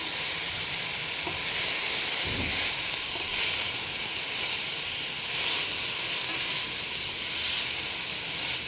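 Shredded cabbage for vegetable lumpia sizzling and hissing steadily in a hot pan while being stirred, close and continuous with occasional scraping knocks.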